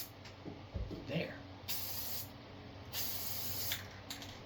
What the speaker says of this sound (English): Don't spray it directly into that fan.